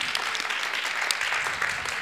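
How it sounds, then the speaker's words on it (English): Audience applause for astronomer Laura Zschaechner after her talk on galactic winds, a steady dense clapping from a crowd close by, holding even throughout with no voices over it. "Let's give a round of applause to Laura"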